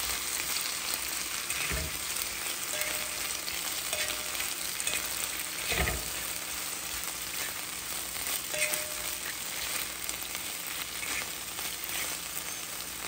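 Spicy gochujang pork belly simmers quietly in a pan, a faint even bubbling hiss with a couple of soft utensil knocks.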